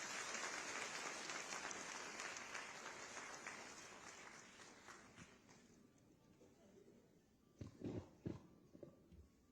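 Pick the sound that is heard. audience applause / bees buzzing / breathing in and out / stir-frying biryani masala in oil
audience applause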